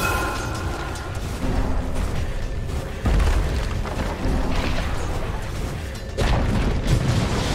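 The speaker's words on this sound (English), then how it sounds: "Dire's top tower has fallen." A Dota 2 tower goes down with heavy booming crashes, the first at the start, then a few more deep impacts at steady intervals over the continuous din of battle.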